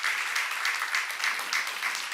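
Congregation applauding in church in praise of God's creation, a dense burst of steady clapping with rhythmic swells, lasting about two seconds.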